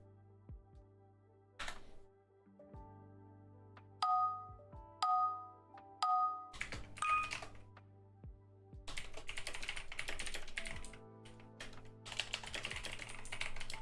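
A computer keyboard clacks close up in scattered bursts, single key strikes at first and then a dense rapid run of clicky typing, with a few soft chime tones mixed in and no talking.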